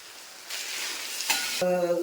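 Potatoes fry uncovered in an open pan, a soft sizzle rising midway with a brief clatter of stirring and a tonal scrape near the end, no voices.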